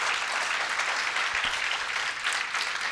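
A congregation at a Catholic Mass claps in a dense, even burst of applause that fills the hall, holding steady before cutting off abruptly.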